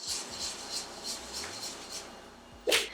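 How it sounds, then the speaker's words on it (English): A spatula scraping the sides of a bowl of dark chocolate toffee brownie batter: soft, rhythmic rubbing strokes repeat about every third of a second, close and quiet, ending with a brief sharper scrape. "I'm gonna scrape the sides again."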